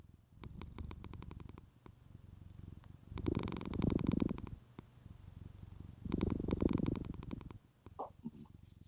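A pet cat purrs close up in a quiet room, in rhythmic bursts that swell and fade with each breath and stop in brief pauses between cycles.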